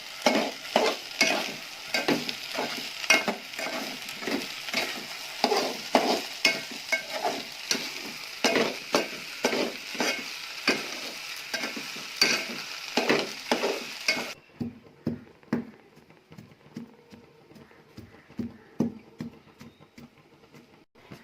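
Coarse cracked wheat dry-roasting in a pan for jaggery kheer, stirred with a spoon in an even rhythm of close scraping strokes over a light sizzle. The sound turns quieter and duller near the end, with no one speaking.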